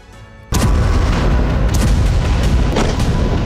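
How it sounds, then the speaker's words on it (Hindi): Explosions at a Russian oil refinery in wartime news footage: after half a second of quiet, a loud, sustained broadband roar of blasts and rumbling sets in, with several sharp bursts cutting through and no voices. "यूक्रेन पूरी ताकत के साथ रूस में हमले कर रहा है और जो बारूदी विध्वंस है वो नजर आ रहा है रूस के अंदर।"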